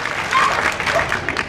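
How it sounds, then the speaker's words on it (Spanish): Spectators at a 2016 bully dog show in Medellín break into steady, close applause, a dense patter of many hands clapping for the whole short stretch with little else beneath it. "Ok, aplausos, solamente aplausos por el fan."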